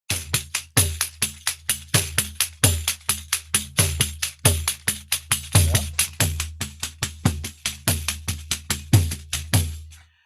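A Tamburi Mundi frame drum plays a baião rhythm pattern with even, unaccented strokes, a steady run of crisp, closely spaced hits heard alone for about ten seconds.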